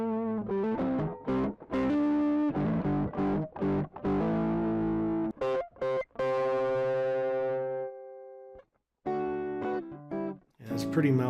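An electric guitar plays through a Keeley Tone Workstation effects pedal with the drive turned up, giving distorted chords and single notes in choppy bursts, a long sustained ringing chord, a short gap, then more playing.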